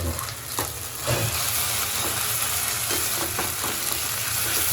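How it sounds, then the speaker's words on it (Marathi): Masala paste sizzles and fries steadily in a pan while crab sukka is cooked, with a continuous close crackle and occasional stirring scrapes throughout. "मस्त मसाला वाटण आपले परतून घेऊ"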